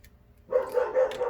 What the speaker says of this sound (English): we got dogs barking like crazy right now